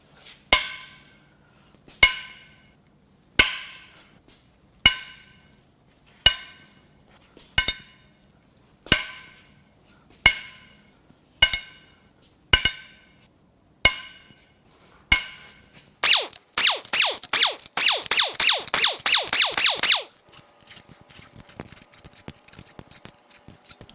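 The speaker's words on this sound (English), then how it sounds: "Now it's time to crack the head bolts loose." A wrench cracks loose the cylinder head bolts on a junk 1.4L turbo Chevy Cruze/Sonic engine: about a dozen sharp, evenly spaced metallic clicks, then a rapid burst of ratcheting before a faint quieter rattle.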